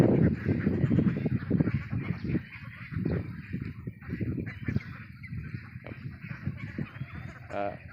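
Meat and egg ducks let out to graze grass in the evening, their loud quacks and honks coming close and overlapping in irregular bursts, with a sharper call near the end.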